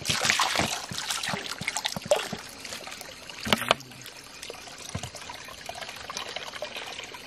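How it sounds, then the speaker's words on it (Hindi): Natural mountain spring water trickling and pouring into a container as it is filled outdoors in Uttarakhand, a steady watery splash throughout with a few louder spills and faint background voices. "गाइज हम यहाँ पे पानी भरने आए हैं"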